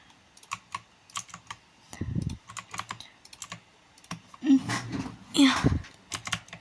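Keys clatter on a computer keyboard as a chat message is typed while playing Roblox, in quick irregular bursts of close clicks, with a few heavier thumps and some soft speech mixed in.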